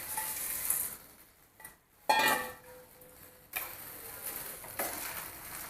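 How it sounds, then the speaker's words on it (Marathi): Noodles tossed into cooked vegetables in a pan after the gas is switched off, giving intermittent scraping and stirring strokes with soft clatter of the utensil against the pan, separated by short pauses. "आणि हे नूडल्स आहेत आपण ह्याच्यामध्ये मिक्स करू"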